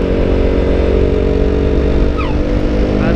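A KTM RC 200 motorcycle engine drones loudly and continuously as the bike accelerates while riding, a close, dense roar that holds steady throughout.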